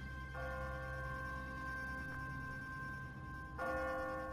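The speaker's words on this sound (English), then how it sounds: "What kind of church bell goes off at 20 past the hour?" An automatic, timer-driven church bell rings in the Walking Dead video game, a sustained tolling tone that sounds near the start and strikes again toward the end over a steady low ambient hum.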